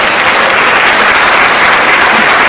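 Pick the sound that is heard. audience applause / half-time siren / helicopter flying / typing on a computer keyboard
audience applause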